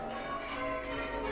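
Church bells ring from towers above a celebrating crowd, a brief resonant tone with sustained overtones, moderately loud and without speech.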